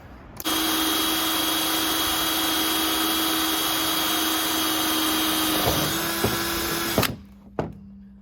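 A dull drill bit bores a custom hole in a part for a Shelby Dodge Daytona engine, a loud steady whine running for several seconds and then stopping, followed by a couple of knocks.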